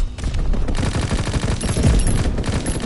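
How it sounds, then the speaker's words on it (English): A fighter pilot's strafing run in a PS4 war game sounds as a dense, loud burst of rapid automatic gunfire, a continuous roaring fusillade that fills the whole moment. "Strafing the target."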